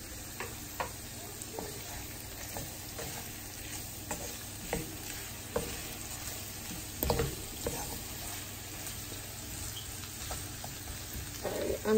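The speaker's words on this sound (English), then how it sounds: "The chorizo is like popping everywhere." Chorizo fries in a pan over low to medium heat, with a steady close sizzle and scattered sharp pops and crackles throughout.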